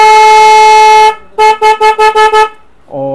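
Horn of a modified Karizma XMR 210 motorcycle: one long loud steady blast, then a rapid string of six short toots, then a lower-pitched brief tone at the end, close and clear with no talk.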